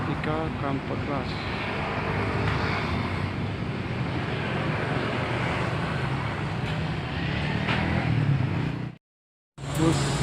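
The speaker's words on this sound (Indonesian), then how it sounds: "Bus Sari Mustika Comfort Class." A Sari Mustika Comfort Class bus passes on a road near Palembang, Sumatra, as a loud broad rumble with wind noise that holds steady for several seconds before a brief cutout.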